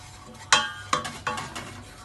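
A utensil stirs sifted flour into melted butter in a pan, giving three or four distinct scraping clinks against the metal over a faint background, close and fairly quiet.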